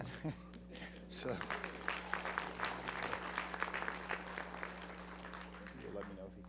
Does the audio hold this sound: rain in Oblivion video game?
no